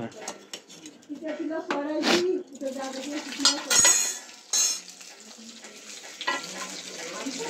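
A hot stone from a wood-fired clay stove dropped into a spoon of oil with garlic for a tikri phodni tempering, giving sizzling and frying with clinks of utensils and stirring, close and fairly loud under ongoing talk.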